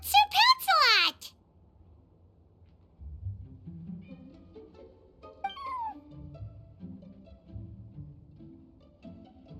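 A cat in Genshin Impact lets out a loud, close meow at the start, then gives a second, softer mew a few seconds later over quiet background tones, while a character speaks in between.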